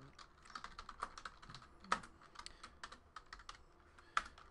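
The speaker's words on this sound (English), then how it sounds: "Time to type in the hits." Close, quiet keystrokes patter on a computer keyboard in an irregular, steady stream, with a few sharper taps standing out, heard alone.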